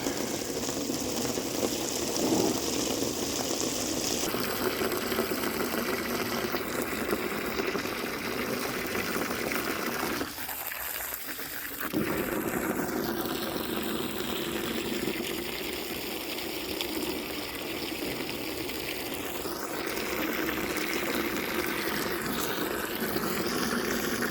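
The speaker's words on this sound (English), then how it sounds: "Hopefully that water's not too loud." Steady rushing water flows loudly and continuously, a broad hiss filling the background with a brief dip midway.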